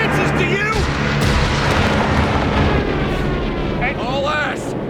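Artillery fire in the World War II strategy game Company of Heroes 3 sounds as dense booming rumbles and blasts, with game voice callouts over the continuous battle din.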